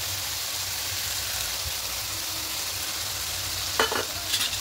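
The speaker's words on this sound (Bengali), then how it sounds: "এবার খুব ভালো করে একটু কষিয়ে নেব 2-3 মিনিট।" Spiced yogurt masala sautés in a pan for pomfret curry, giving a low steady sizzle with occasional stirring scrapes and a couple of brief clanks near the end, close and without talk.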